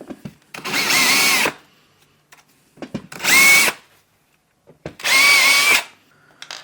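A power drill countersinks screws into a laminate panel while building campervan kitchen drawers, three separate loud whirring bursts of about a second each with short quiet gaps between them.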